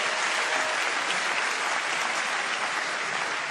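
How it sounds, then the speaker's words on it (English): Loud, dense crowd applause fills an arena after a Glory MMA fight in Stockholm, a continuous roar of clapping and cheering with no pauses. "a big round of applause for both fighters here tonight."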